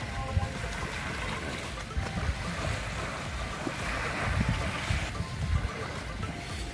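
A boat engine drones steadily while water rushes and splashes against the hull, with wind buffeting the microphone throughout, on a boat ride at Villa Francia, Quezon, Philippines.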